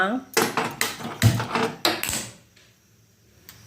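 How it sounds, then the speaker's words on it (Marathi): An idli steamer pot is set onto a gas stove with several clanking metal knocks and rattles in quick succession, close up, under a person talking, then quiet. "इडलीचं पात्र ठेवून दिलं त्यानंतर गॅस पेटवला"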